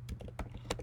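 Keystrokes on a computer keyboard while typing a git commit command, a quick irregular burst of several close, crisp clicks with no talking.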